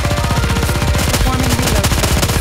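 Rapid automatic gunfire in the NIKKE action video game, a dense, loud, unbroken stream of shots lasting the whole stretch, with no voices.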